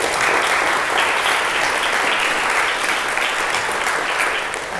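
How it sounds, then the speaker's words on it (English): A chamber of commerce audience at a transportation and traffic forecast forum gives a sustained round of applause, a dense, loud wash of many clapping hands with no pause. "So let's give them a round of applause."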